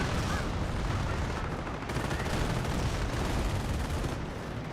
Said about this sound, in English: Another strafe run somewhere.